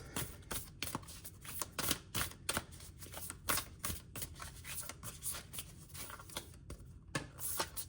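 Tarot cards are shuffled by hand in quick, irregular bursts of crisp riffling and slapping, close and fairly quiet, with short pauses between flurries and no talking.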